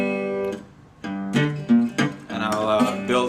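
Acoustic guitar picking out the instrumental riff from a song, a short phrase of plucked notes and bent strings, close and clear with no talking.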